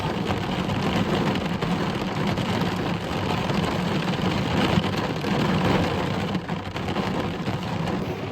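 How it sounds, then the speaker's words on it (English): Heavy rain pours steadily, a dense, even hiss of drops with a low rumble beneath, continuous throughout with no voices. "we're just gonna listen to the rain for a minute"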